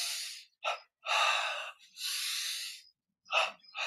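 Strong, breathy exhalations and inhalations in a guided breathing exercise, several distinct puffs of air with short silent gaps between them, close and clear, with no speech.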